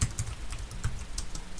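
Keys clatter on a computer keyboard as a Linux command is typed, a quick uneven run of close, crisp clicks with no voice over them.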